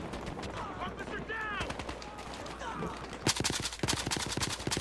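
A SCAR-H battle rifle in Battlefield Hardline fires a rapid string of loud, sharp shots near the end, with someone talking over the quieter game sounds before the burst.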